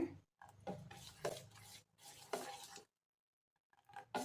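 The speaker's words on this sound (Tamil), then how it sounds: "உப்பு போட்டு கரைச்சி வச்சுருவோம்" Ragi dosa batter being stirred with salt mixed in, a close, soft scraping swirl in several bursts with short pauses, ending in a brief quiet gap before resuming.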